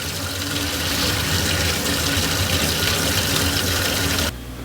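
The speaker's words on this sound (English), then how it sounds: "it'll suck and pump at the same time, and that'll make the water change go even faster" A pond pump sucking and pumping water at the same time during a pond water change, a steady loud rushing gush of flowing water with a low motor hum, continuous throughout before dropping off near the end.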